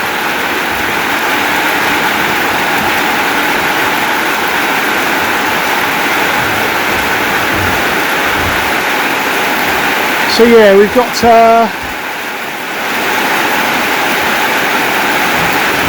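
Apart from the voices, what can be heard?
rainwater pouring off a house roof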